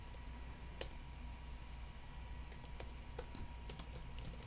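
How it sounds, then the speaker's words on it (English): Computer keyboard typing nearby, a scattered run of light clicking keystrokes over a steady low hum, with no talk. "I'm gonna type Christmas"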